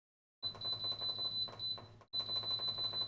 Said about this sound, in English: This beeping is a pressure cooker.